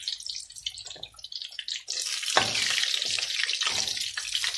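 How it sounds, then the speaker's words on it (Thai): Liquid drains and drips from marinated food being lifted and strained over a pan in a home kitchen, a steady close trickle with splashing that grows fuller partway through, with no talking. "นี่นะคะจะเด็ดน้ำแบบนี้เลยจ้ะ"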